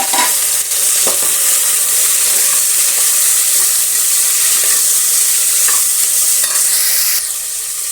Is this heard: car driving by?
no